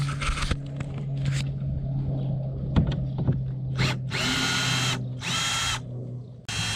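A power drill backs screws out of a kayak pod mount during a trolling motor install, giving several close, loud whirring bursts separated by short pauses and light clicks.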